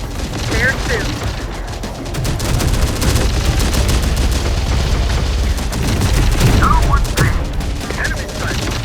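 Rapid gunfire in the Terminator: Dark Fate - Defiance video game, dense bursts of automatic shots and booms running loud and continuous, with voices calling out briefly over the battle.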